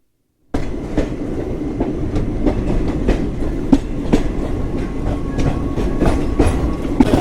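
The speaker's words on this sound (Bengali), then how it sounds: "এই হচ্ছে আমাদের ট্রেন।" The Shalimar to Madgaon express runs along the line, a loud, close, continuous rumble with rhythmic clickety-clack wheel beats over the rail joints, starting abruptly after a brief silence.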